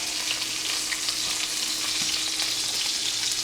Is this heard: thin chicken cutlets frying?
yes